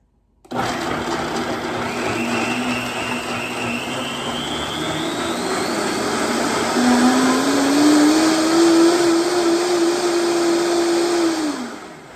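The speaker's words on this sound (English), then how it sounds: "put this on at a very high speed setting. And you're going to be able to hear how loud my Vitamix is" A loud, steady Vitamix blender roar at high speed, pulverizing cashews, starts abruptly and runs throughout, its whine rising and shifting in pitch before cutting off at the end.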